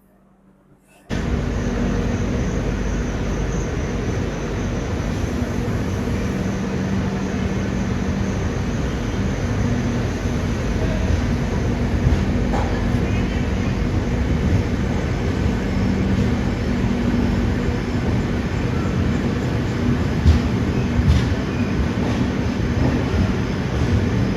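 Steady, loud rumble of the Pune–Ajni AC Express running between Pune and Nagpur, heard inside a 3A coach as a continuous rolling drone after a quiet opening second.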